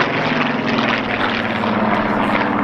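A Hawker Hurricane propeller fighter flies at an airshow, its piston engine and airscrew giving a loud, steady, throbbing drone that stays close and constant throughout.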